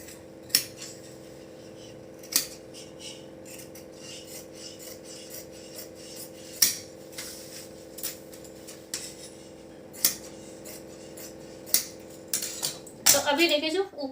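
Scissors cutting blouse fabric, with a series of separate crisp snips spaced a second or two apart over a low steady hum, and a brief cluster of rustling near the end.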